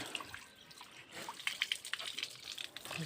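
Water runs and trickles at a washing spot where clothes are being washed by hand, a faint, steady liquid patter with small splashes and drips throughout.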